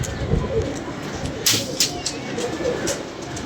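Pigeons from a flying loft coo softly through steady background noise, with a few brief sharp clicks or wing flaps scattered across the short stretch.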